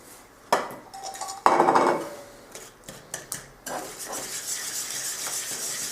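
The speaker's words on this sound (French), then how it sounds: "Donc il faut bien mélanger pour obtenir" Soft butter, a medium egg and sugar stirred together in a mixing bowl, with utensil scraping and clinking against the bowl in bursts that grow into steady close mixing.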